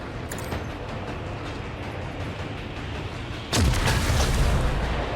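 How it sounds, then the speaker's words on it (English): A grenade detonates in the Warhammer 40K Rogue Trader video game, one sudden loud boom midway that rolls into a low rumble over steady background game noise, with faint crackling before it. "I'm gonna try throwing the grenades out at it"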